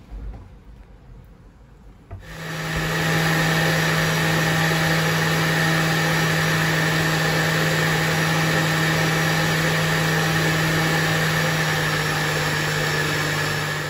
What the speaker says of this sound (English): all together in the liquidizer with the rest of the ingredients that are already liquidized